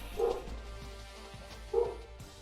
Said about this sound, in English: wish my dogs would quit barking